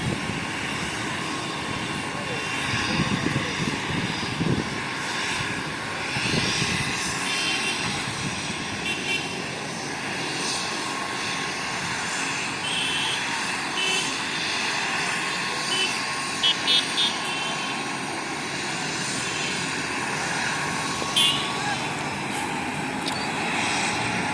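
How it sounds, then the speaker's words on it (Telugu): A helicopter engine roars steadily and grows in force as it lifts off after a Chandrababu Naidu meeting in Jaggampeta, a constant droning rumble with voices faintly audible beneath. "పూర్తి చేసుకుని ఇప్పుడే హెలికాప్టర్ అయితే ఎక్కుతున్నారు"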